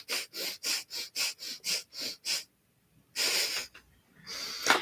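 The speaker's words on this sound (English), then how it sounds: "Sounds like really fast ujjayi breath." Rapid, forceful breaths from a film scene, like fast ujjayi breathing: about nine quick, evenly spaced hissing breaths in a row, a short pause, then a couple of longer, heavier breaths, close and fairly loud.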